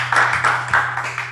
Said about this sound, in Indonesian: minta tepuk tangannya